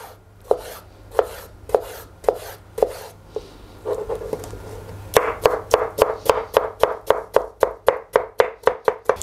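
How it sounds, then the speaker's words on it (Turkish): A knife chops tomatoes into cubes on a board with steady, close, sharp strikes that start spaced out and then speed up into a quick, even run. "Küp küp doğruyoruz."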